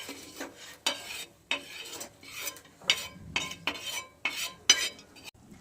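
Fried peanuts are scooped out of a pan in a quick series of metallic scrapes and clinks, about a dozen rhythmic strokes of a utensil against the metal, close and clear.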